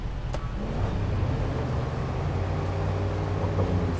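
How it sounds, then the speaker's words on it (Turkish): A truck engine in the video game SnowRunner, driving the Alaska map after an upgrade, drones low and steady throughout, an even rumble with no voices over it. "Evet, motorun sesi değişmiş."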